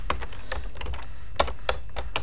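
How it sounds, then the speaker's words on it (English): Light, irregular keystrokes on a computer keyboard, quiet and close, with a few sharper taps standing out over a soft room hum. "now we want to type in thank you"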